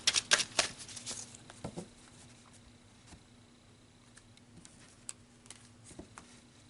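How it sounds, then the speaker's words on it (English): Oracle cards are shuffled close up, a brief flurry of crisp riffling snaps at the start that fades into sparse light taps and card ticks against a quiet room hum. "let's pull another card, an oracle card, to gain some more insight"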